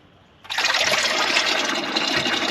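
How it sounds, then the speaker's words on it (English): Engine oil gushes from an opened petcock under a tractor during an oil change: after brief near-quiet, a sudden steady pouring splash starts and runs on continuously, close and fairly loud. "oil's pouring out."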